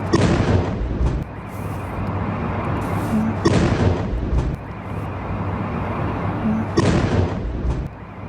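Heavy blasts from a ballistic missile attack on Kyiv, three loud booming bursts spaced a few seconds apart, each rolling into a long rumbling tail, with no voices.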